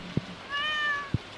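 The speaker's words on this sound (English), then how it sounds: "Meow." A cat meows in the video game Stardew Valley: one smooth, rising-then-falling meow that sounds close and clear, framed by two soft thumps, with no one talking over it.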